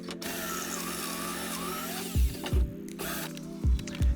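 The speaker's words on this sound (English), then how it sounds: "Then I drilled 2 more pocket holes." A power drill whirs steadily close by while pocket holes are drilled in wood, and four short low thumps follow near the end.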